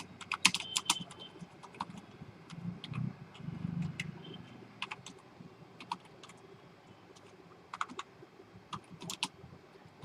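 Scattered keystrokes on a computer keyboard while Python code is entered, crisp clicks in irregular short runs with gaps, close-up over a quiet room hum, no talking.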